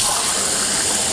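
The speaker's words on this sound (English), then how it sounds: "So I'm going to add water now." Water pours steadily into a soup pot of harvest pumpkin and corn, a close, continuous gushing splash that holds at an even level for about a second.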